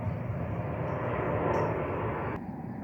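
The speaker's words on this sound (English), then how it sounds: "I'm near an airport and the planes are not having clearance to land, so it's having to circle every few minutes" An airplane circling near an airport, a loud steady engine drone that fills the clip and eases slightly near the end, with no speech over it.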